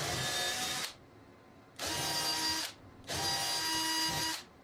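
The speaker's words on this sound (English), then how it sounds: "take a small drill bit and drill into the ceiling to find the edge of the joist" A small drill bit bores into a garage ceiling in three short bursts, each whine lasting about a second with brief pauses between, close and fairly loud.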